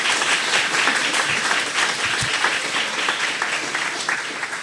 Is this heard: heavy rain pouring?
no